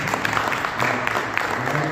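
An audience at an Arya Samaj gathering claps to honour officials, a short burst of dense, steady applause filling the hall.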